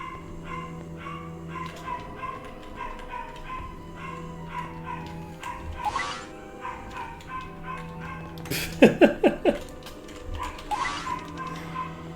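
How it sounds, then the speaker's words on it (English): A dog outside a window barks and yaps in short sharp bursts, with a cluster of rapid yips near the end, moderately close over a low room hum. "That dog is very barky. One might even say yappy."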